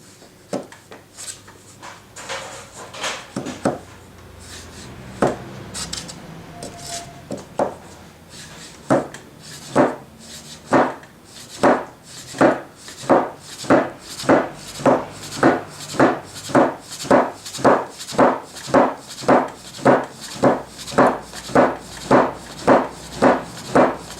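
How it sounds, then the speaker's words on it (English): A knife slices through rolled soba noodle dough on a wooden board, irregular chops at first, then dozens of crisp, evenly spaced cuts in a steady fast rhythm, close up and alone. "Check the thickness and slice the soba"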